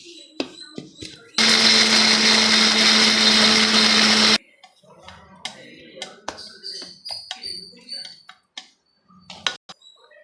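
A mixer grinder whirs loudly for about three seconds while grinding almonds, cashews, pistachios and peanuts together, a dense steady roar with a low hum that stops abruptly, surrounded by quiet kitchen clatter and small taps.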